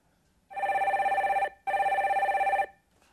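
An electronic telephone bell rings twice in long, even bursts with a short gap between them, loud and close, as a caller is put through on a live radio call-in broadcast.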